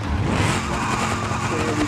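In the BeamNG.drive driving game, a custom Super Panther car's tires skid in a continuous loud squeal with engine roar, alone without talk.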